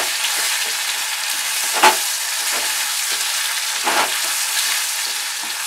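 Capsicum and bell pepper frying in a pan while being stirred, giving a steady close sizzle with occasional louder scrapes of the spoon against the pan and no voices.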